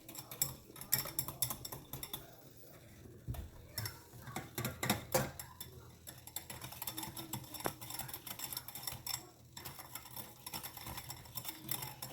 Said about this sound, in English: So I've been whisking my egg mixture over the double boiler